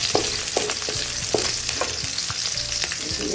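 Ginger frying in a pan for Chinese-style mixed vegetables, a steady close hiss of sizzling oil with rhythmic scrapes and taps of a spatula stirring, no voices.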